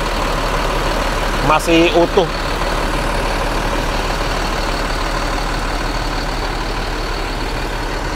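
A bus engine idles with its engine compartment open, a steady loud low drone throughout, with a brief spoken phrase near the start.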